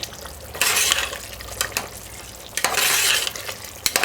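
Brown stewed turkey neck with ketchup bubbling in a pot on a turned-up stove, heard as close stirring scrapes and pot clatter in a couple of louder bursts over a soft sizzle.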